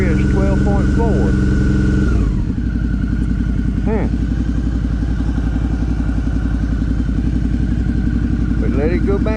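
A Suzuki V-Strom 650 motorcycle with a charging problem idling close by: a loud, steady rumbling engine throb with a brief dip in pitch early on, then an even idle that holds to the end.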